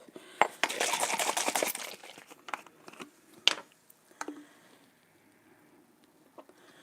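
A bottle of Worcestershire sauce shaken by hand in a kitchen: a dense burst of sloshing, rattling strokes for about two seconds, then a few separate knocks and clicks as it is set down.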